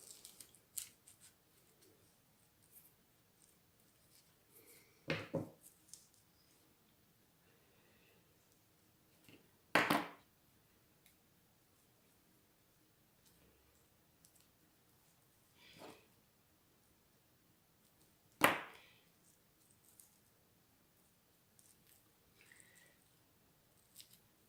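Scissors snip paper for a mini flipbook in a quiet room, four or five isolated crisp cuts spaced several seconds apart, close up with faint handling noises in between.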